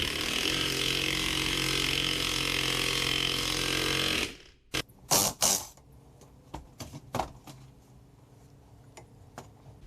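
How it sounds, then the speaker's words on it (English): A press tool pulls a new ball joint into the front lower control arm of a seventh-generation Honda Civic, with a loud, steady mechanical grinding whir for about four seconds, then scattered sharp metallic clicks and knocks. "we're going to go ahead and pull our ball joint in"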